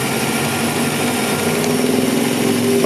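A 1956 Ford Victoria engine running at a steady idle, an even, continuous mechanical hum heard up close with no talking over it.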